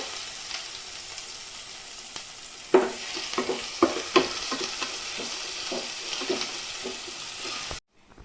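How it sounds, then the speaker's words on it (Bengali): Bay leaf, dried red chillies and panch phoron fry in hot oil, a close steady sizzle dotted with sharp spitting crackles that cuts off abruptly at the end. "তেল দিয়ে দিচ্ছি, তেজপাতা দিয়ে দিব, শুকনো লঙ্কা দিয়ে দিব, পাঁচফোড়ন দিয়ে দিব"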